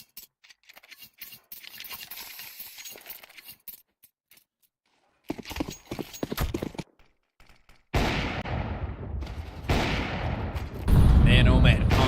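Gunfire during a competitive esports match at a playoff tournament, sharp bursts of shots and rapid volleys in several separate stretches, growing louder and denser toward the end with heavy explosive fire.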